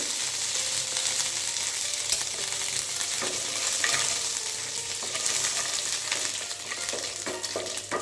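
Garlic, ginger and dried red chillies frying in hot oil, a steady close sizzle with crackling pops and occasional stirring clinks, no talk.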